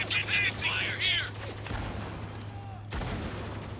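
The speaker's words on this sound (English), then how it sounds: "we're taking some heavy fire here!" Heavy gunfire in Spec Ops The Line: a dense burst of rapid shots at the start, then scattered single cracks and more fire near the end, mid-distance and fairly loud, with no talk.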